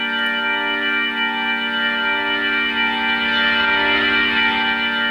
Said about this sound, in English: you get tube distortion, kind of like with a guitar, same kind of thing